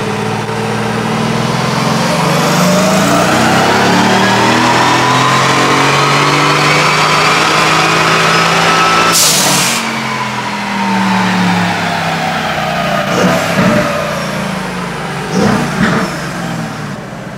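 A Mercedes-AMG GT S with a Whipple supercharger on the Rentec tune climbs through a long, loud dyno pull, its engine pitch rising steadily before snapping off, then blipping and settling into rough revs.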